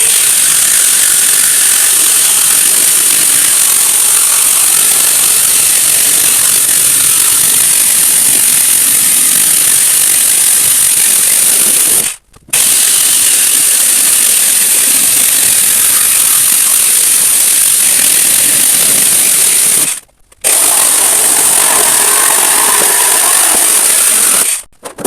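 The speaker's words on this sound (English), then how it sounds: "to cut this, I'm going to be using a jigsaw with a metal cutting blade in it, a fine tooth metal cutting blade" A jigsaw fitted with a fine-tooth metal-cutting blade saws through 1mm steel sheet, a loud, harsh, continuous rasping whine with two brief pauses where the cut stops and restarts.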